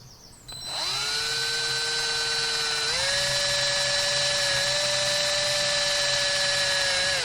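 A power drill spins up sharply and runs at a loud, steady high whine while drilling copper for earrings, its pitch rising slightly partway through, with no voices.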